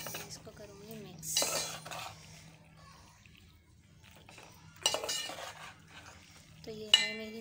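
A spoon stirs macaroni with masala in a pan, making scattered metallic clinks and scrapes in short bursts with quiet gaps between them. A faint voice is heard now and then.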